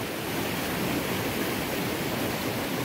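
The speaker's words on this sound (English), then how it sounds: "we heard the loud noise of water rushing down" Rushing water roars loud and steady without a break after heavy rain in Sedona, Arizona, a dense, even torrent like a swollen stream pouring down.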